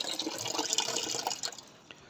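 A container fills with water for goats, giving a splashing, gurgling flow that is fairly close and steady, then tapers off near the end.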